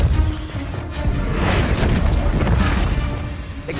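A Repulsor spell cast in a video game, heard as a dense, booming whoosh of energy with crashing impacts that swells and fades over a few seconds.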